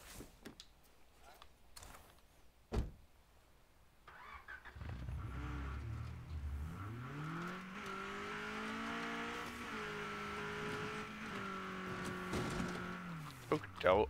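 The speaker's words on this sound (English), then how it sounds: "I love when my car rolls because it sounds like a toy car" A car driving in the video game State of Decay 2, its engine rising from quiet into a steady, fairly loud drone with shifting pitch and occasional knocks. Voices talk during it.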